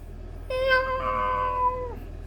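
A voice imitates a cat, giving a drawn-out, tonal meow lasting over a second, close and clear.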